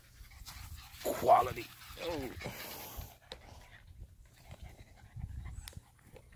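Rottweiler puppies panting while they eat, soft quick breathing and small snuffles up close, with someone talking over them at the start.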